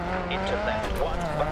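A rally car in the racing game DiRT 4 drones along with a steady, muted engine note and scraping tire noise on a loose surface, while someone talks over it throughout.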